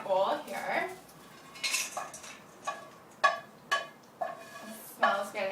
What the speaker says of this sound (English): So I'm going to put this into a bowl here.